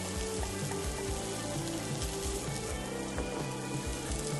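Egg fried rice frying in a pan, a steady close hiss with faint scraping and clatter running throughout, no voices.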